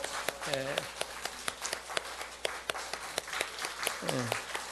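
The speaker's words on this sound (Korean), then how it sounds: "우리 박수로 축하하겠습니다." Church congregation clapping to congratulate newly ordained elders, a thin, scattered run of claps at moderate distance with voices heard over it.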